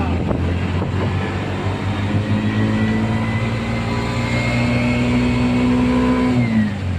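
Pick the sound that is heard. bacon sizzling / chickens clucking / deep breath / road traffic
road traffic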